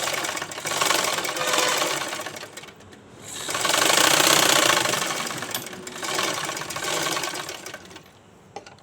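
A sewing machine stitching a blouse neckline, running in steady whirring bursts with a rapid mechanical rattle, close and loud, pausing briefly between runs of stitching.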